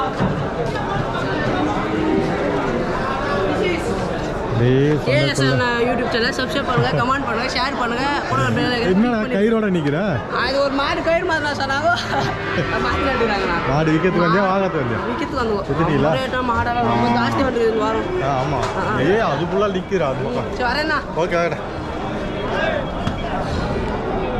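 A dense crowd chatters and calls out at the Vaniyambadi cattle market, with many overlapping voices near and far forming a steady, busy babble throughout.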